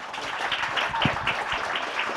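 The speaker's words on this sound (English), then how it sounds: "This is your applause." Audience applause at a conference on disinformation and democracy, steady dense clapping from a crowd of moderate size heard at some distance, lasting the whole stretch.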